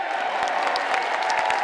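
A town hall audience facing a Nebraska Republican congressman claps steadily, a dense spatter of hand claps from a crowd in a hall, moderately loud and unbroken throughout.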